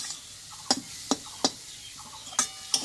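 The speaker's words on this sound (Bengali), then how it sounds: "এইভাবে কিন্তু নাড়াচাড়া করতে হবে।" Semolina fries in a pan with a faint sizzle under about six sharp taps and scrapes of a spatula stirring it, spaced unevenly and heard close up.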